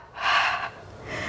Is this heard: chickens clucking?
no